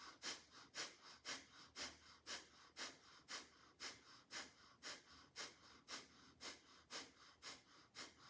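Slow, deep breathing exercise with steady in-and-out breaths, close and clear, repeating in an even rhythm about every half second to second with no talking.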